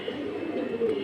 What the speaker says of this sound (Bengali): এই যে দেখেন এটা একটা মাদি কবুতর, প্লাটিনাম হ্যামার কবুতর এটা।